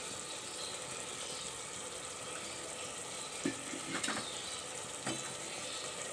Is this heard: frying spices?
yes